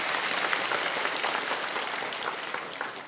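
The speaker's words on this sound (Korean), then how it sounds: "우리 하나님께 감사의 박수 드리겠습니다." A church congregation claps together in sustained applause during an early-morning revival service, holding steady for a few seconds and then tapering slightly.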